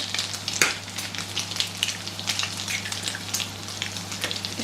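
Bread with eggs frying in oil makes a steady, close crackling sizzle with dense popping and spattering throughout, and a sharp louder pop near the start.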